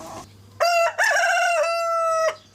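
A rooster lets out one crow close up, a short opening burst, a brief break, then a long sustained harmonic call that holds steady and ends abruptly, with a faint low hum underneath.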